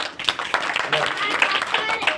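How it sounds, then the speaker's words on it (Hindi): Children and audience clapping at a Republic Day gathering: brisk, uneven hand claps close by, mixed with voices talking over them for a couple of seconds. "तालियां बजाइए"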